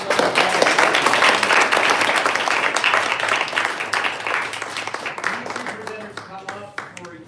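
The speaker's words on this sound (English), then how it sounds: "Round of applause for the audience." A crowd applauds at a 1 Million Cups Chicago startup event, loud, dense clapping that gradually thins and fades as voices begin to emerge toward the end.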